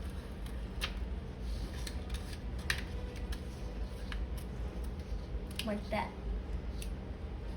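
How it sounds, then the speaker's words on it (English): Scissors snipping a slit into the top of a paper roll Star Wars character model: a few short sharp crisp cuts and rustles near at hand, with a person speaking briefly. "you're gonna cut a slit in the top of it"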